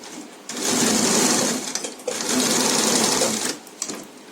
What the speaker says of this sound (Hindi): अब इधर किनारे में कर लीजिए। फिर इस तरफ किनारे में कर लीजिए।